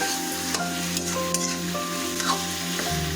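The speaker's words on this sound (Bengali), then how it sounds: "এখন এটাকে আরও মিনিট ধরে কষিয়ে নেব।" Snake gourd curry with raw shrimp sautés in oil in a kadai, a steady close sizzle with scraping stirs and clinks throughout, no talking.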